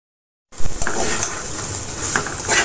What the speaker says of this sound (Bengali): তেল দিয়ে ভাজিটা করে নেব সুন্দর করে।